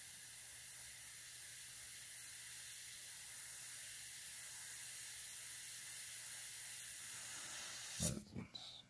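A Badger Sotar airbrush sprays paint onto a small panel, giving a steady, soft hiss that runs for several seconds before a brief knock and bump as it stops.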